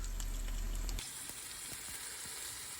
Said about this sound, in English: Almost there in terms of frying the chicken.